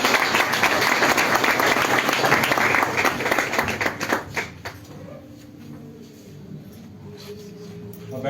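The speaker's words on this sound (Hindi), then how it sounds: "खुदा के कलाम के लिए और खुदा के कादम पास दिलशाद के लिए बहुत सारी तालियां बजाएंगे।" A congregation at a church service claps loudly and densely for several seconds, then the applause thins out and fades into a quieter room with scattered claps and murmuring.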